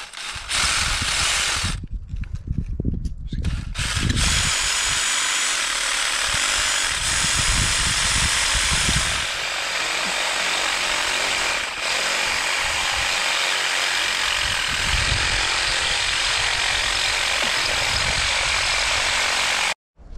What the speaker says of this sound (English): Here's the fun part, get to use the rock drill. So this is a Bosch Bulldog.